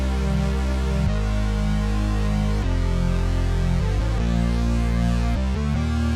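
Sustained synth chords from a Juno 6V software synthesizer, thick layered harmonic pads changing every second or so, steady and loud with no voices.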